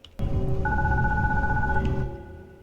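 Telephone ringing in the video game Glitchpunk, a single sustained electronic trill after a brief click, loud and near, fading out at the end with no talk.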